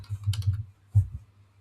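Computer keyboard typing, a short quick burst of key clicks followed by a brief pause and a few more taps, close and clear with no talk.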